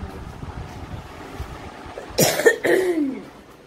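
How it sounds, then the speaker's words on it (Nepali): After a quiet, rustling stretch, a person nearby lets out two harsh, rasping coughs in quick succession. "यस्तो डरलाग्दो खोकी लाग्दैछ कि"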